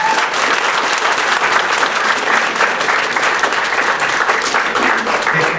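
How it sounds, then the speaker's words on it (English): Audience at a Clark County Commissioner candidate forum applauds the candidates, a loud, dense and steady round of clapping that continues without a break for several seconds. "Let's give our candidates a round of applause."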